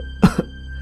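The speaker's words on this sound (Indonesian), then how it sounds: "Kakek masih terus terbatuk-batuk." An old man gives two quick, close coughs, a sharp one followed by a softer one, in an otherwise quiet room.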